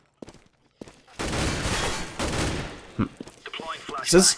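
Rapid automatic gunfire in the video game CS:GO: a sustained, loud volley of shots after a couple of isolated cracks, followed by a few scattered single shots.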